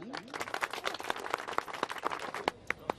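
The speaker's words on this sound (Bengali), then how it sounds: "সবাই হাততালি" A small group of villagers claps together, sharp uneven hand claps in a brief burst that thins out toward the end, fairly faint and slightly distant, with no talking.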